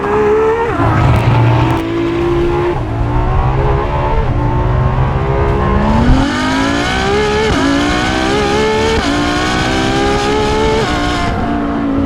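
A Ferrari LaFerrari hybrid accelerates hard with its wheels spinning, the engine note climbing loud and close through rising gear sweeps, a brief squeal of tyres early on and no talk over it.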